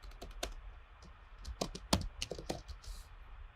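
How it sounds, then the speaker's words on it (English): Quick bursts of computer keyboard typing while working in CLO garment-design software, crisp clustered key clicks in an irregular rhythm, close and fairly quiet, no voices. "I'm going to press return or enter on the keyboard to confirm"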